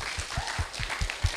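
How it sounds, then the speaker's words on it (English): Audience applause at the awards and presentations session of a young leadership program, a fairly faint, steady patter of clapping through the short span with a few sharper low thumps. "one final round of applause, why not?"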